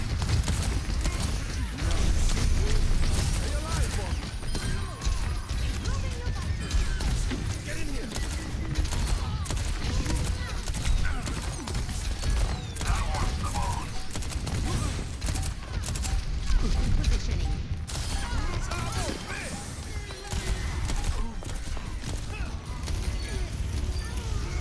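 Rapid bursts of gunfire from the Overwatch 2 video game crackle densely and continuously in a busy, loud mix of shots and mechanical game effects, with no pause across the stretch.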